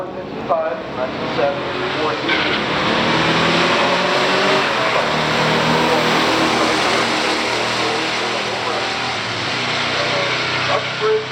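A 1968 Dodge Charger RT and a 1970 Buick GS455 drag race, engines roaring in a loud sustained wash of revving noise at the strip, with faint voices underneath.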